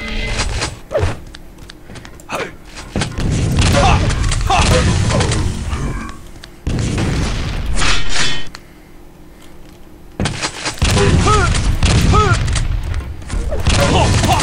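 Frag grenade explosions and gunfire in a Black Ops 3 duel on the Lost World map come as loud, dense bursts of booming blasts and rapid shots, close and continuous across several long stretches with brief lulls.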